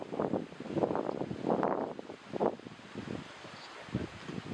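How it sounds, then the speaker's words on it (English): Strong wind gusts buffet the microphone outdoors at a carp fishing match at Whiteacres, Acorn lake, coming as loud rumbling bursts with rustling through the whole clip and no one talking. "You see it's really, really windy."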